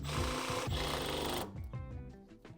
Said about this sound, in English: I can use the self-centering drill bit to drill the screw holes